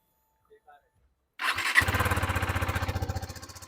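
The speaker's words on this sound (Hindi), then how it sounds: "मैं आपको इसके एग्जॉस्ट का एक बार साउंड सुनाता हूँ" A KTM RC 390 GP Edition motorcycle fires up and settles into a steady, close idle in neutral, its exhaust pulsing with a rapid, even rhythm after a couple of faint clicks beforehand.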